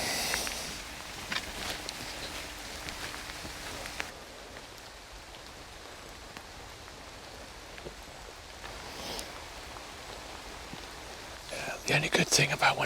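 Steady rain falls across countryside undergrowth during a deer management outing, a soft, even hiss with patter through most of the stretch, and brief louder rustling bursts near the start and end.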